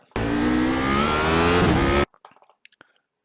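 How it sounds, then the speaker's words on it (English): Radical SR8 race car at Spa accelerating hard out of a corner, a loud close engine roar with rising pitch for about two seconds, then cutting off abruptly into faint scattered knocks. "Now accelerate hard out, but not so much the rear spin up"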